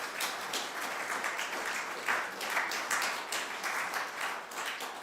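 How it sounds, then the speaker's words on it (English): Audience applause at a Nepal-UK tech forum, a steady wash of many hands clapping at moderate volume, sustained evenly for the full stretch with no voices over it. "you all deserve a round of applause"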